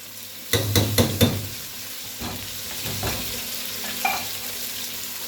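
Chicken sizzles in hot oil with ginger-garlic paste while a spoon stirs and scrapes the pan in a few quick bursts, then the frying settles into a steady hiss.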